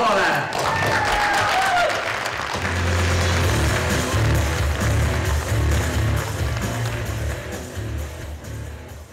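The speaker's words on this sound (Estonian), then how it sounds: "kutsume nad aplausiga lavale" Audience applause welcoming a student team onto the stage at a youth entrepreneurship competition final, steady clapping with voices and music over it throughout.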